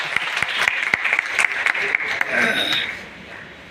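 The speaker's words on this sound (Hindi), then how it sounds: "एक बार जोरदार ताली बजाए तो आएंगे।" Audience applause at a rally in Bilgram, Hardoi, a burst of dense, sustained clapping from a crowd that tapers off near the end.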